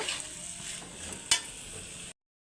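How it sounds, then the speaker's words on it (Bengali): Jackfruit and prawns stir-fried in a pan with a little water, a steady soft sizzle with one sharp clink of the spatula partway through, then an abrupt cutoff. "অল্প জল দিয়ে একটু ভালো করে কষে নেব"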